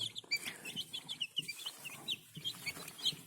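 Busy high-pitched peeping of chicks eating feed, with soft pecking and scratching sounds close by, continuous and lively with no talking.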